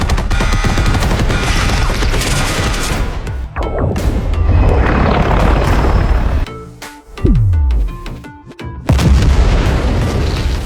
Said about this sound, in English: the human fleet fired depth charges into the sea